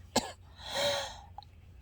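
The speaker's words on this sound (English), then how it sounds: "the effort of talking is making me cough terribly" A person recovering from surgery coughs: a short sharp cough, then a longer harsh rasping one and a brief throat sound, close and alone.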